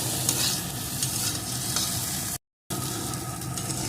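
Peas frying with small chopped tomatoes, a loud, dense sizzle with continuous stirring scrapes close by, cut by a brief moment of total silence before the sizzling resumes.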